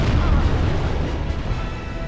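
Deep booming explosions burst during a boss fight in Dark Souls Remastered, a heavy low rumble that swells and slowly fades over about two seconds, with no talk over it.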